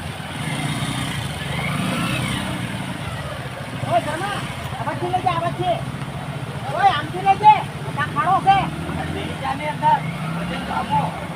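Vehicles drive along a flooded road in monsoon rain, with steady engine rumble and water noise throughout and people talking over it in the second half.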